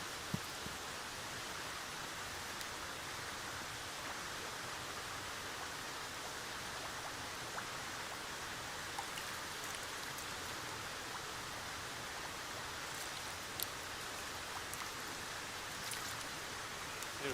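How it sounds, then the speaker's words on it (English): Water poured steadily into a container to change its pitch, a continuous hissing, splashing pour heard close up and alone at a stable level throughout. "we can actually fill it up with water and it will change the pitch of it"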